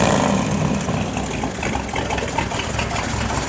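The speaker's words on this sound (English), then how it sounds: "A little rev, Ed." A 1965 Chevrolet Corvette with the L78 engine idles with a loud, rough, steady rumble close by, lifting slightly with a small rev.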